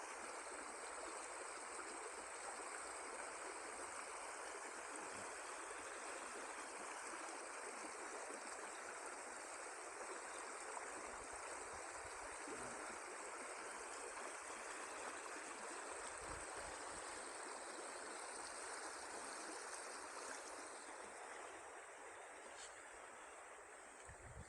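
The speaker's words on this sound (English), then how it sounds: "And the sound of the river," A river flows through the wooded Loxley Valley near Sheffield on an autumn walk, a continuous gentle rushing and babbling of water that holds steady throughout, faint and unbroken, with no voices.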